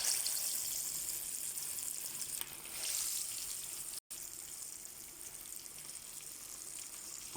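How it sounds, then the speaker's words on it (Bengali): Fish pieces frying in hot oil, a dense, steady hiss and crackle that fills the clip, briefly cutting out for a moment midway before resuming at a similar level. "মাছ ফ্রাই চলে"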